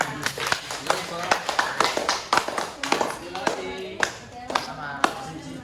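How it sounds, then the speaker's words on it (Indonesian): Students in a classroom clap for their classmates, a loose, uneven burst of individual hand claps with voices talking across it. "Beri tepuk tangan untuk kalian."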